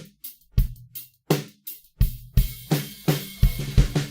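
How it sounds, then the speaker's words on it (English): A snare drum played in music production software with a room reverb effect, struck in a loose rhythm of about ten sharp hits over four seconds, each followed by a short reverberant tail, clear and alone with no talk. "Let me use it first on this snare."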